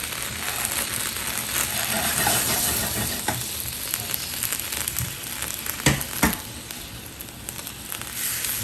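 Vegetables sizzle and fry in a pan, a steady dense crackle with occasional stirring scrapes, close and fairly loud, with no voices.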